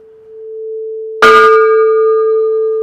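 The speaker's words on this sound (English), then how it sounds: "he rings the bell, that's the morning call to prayer" A monk strikes the large temple bell at Wat Buraparam, a royal temple in Surin, Thailand, as the morning call to prayer. One loud, close clang rings out over the lingering hum of the previous stroke and decays slowly.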